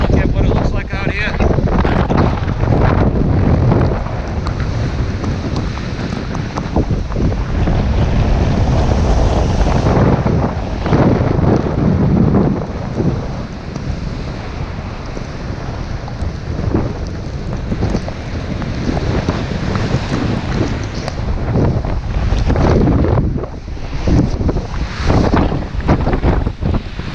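Strong wind gusting across a beach in winter storm Stella, with surf crashing beneath and heavy buffeting on the microphone throughout, while someone talks over the roar.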